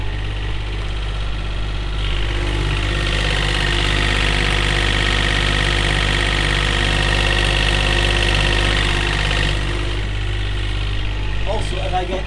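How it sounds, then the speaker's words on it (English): The engine of a sailing boat idles at sea off Croatia, a loud, steady low rumble with a constant mechanical drone that stays unchanged throughout, heard up close from inside the boat. "I did promise you that I'll show you the engine."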